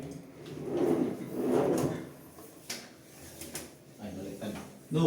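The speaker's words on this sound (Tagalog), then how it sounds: "So ayan, drawer natin." A cabinet drawer slides open and shut twice in close succession, with a later softer knock and a sharper bump at the end, heard nearby in a quiet room.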